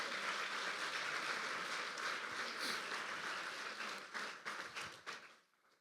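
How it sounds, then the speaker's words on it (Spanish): Church congregation applauding for the Lord, with a sustained wash of many hands clapping that thins out into a few scattered claps and then stops. "¿Cuánto le da un aplauso al Señor?"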